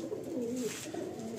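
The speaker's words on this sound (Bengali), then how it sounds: "তো অ্যাট প্রেজেন্ট এখানে কিছু পায়রার ব্রিডিং চলছে" Breeding pigeons in a large loft give soft, throaty, rolling coos, close by and repeated against a faint background hiss.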